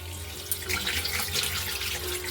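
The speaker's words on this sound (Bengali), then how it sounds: "কলের তলায় সমানেই ধোবো আর জলটা পাল্টিয়ে ফেলবো।" Dough being washed under a running water tap, a steady close splashing rush of water for a couple of seconds.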